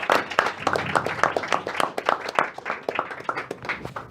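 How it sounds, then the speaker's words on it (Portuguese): A church congregation claps in praise of the Lord during a worship service, a lively stream of rhythmic hand claps with a faint murmur of voices beneath, moderately loud and continuous. "as palmas do Senhor"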